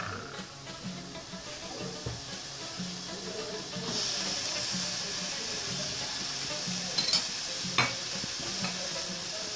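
Minced lamb kefta cooks in a pan with browned fried onion and parsley, and a soft, steady sizzle runs under occasional stirring scrapes and a few sharper clinks near the end.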